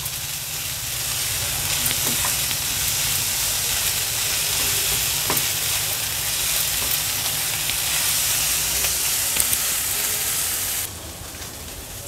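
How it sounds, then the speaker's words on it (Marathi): Prawns tossed with other ingredients in a pan over a high flame, a steady loud sizzle and hiss with occasional clinks of a spatula stirring, ending abruptly. "हे बघा मिनिटभरासाठी ह्या सर्व इन्ग्रेडियंट्स आपण प्रॉन्स सोबत छान टॉस करून घेतले आहेत"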